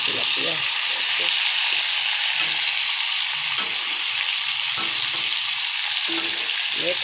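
Tilapia sizzles and crackles loudly in a frying pan, a dense continuous hiss running the whole time.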